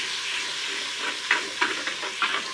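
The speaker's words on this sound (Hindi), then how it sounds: "अब इसमें 1 खाने का चम्मच लहसुन अदरक का पेस्ट शामिल कर देते हैं, इसको भी चला लेंगे थोड़ा" Garlic-ginger paste sizzling in oil with lightly browned onions while being stirred: a steady close hiss of frying with intermittent spoon scrapes and clicks against the pan.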